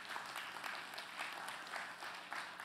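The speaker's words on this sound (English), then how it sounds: "you can give the Lord a praise clap." A church congregation gives a brief praise clap during a sermon, a fairly soft, even patter of many hands with faint rhythmic pulses and no clear speech.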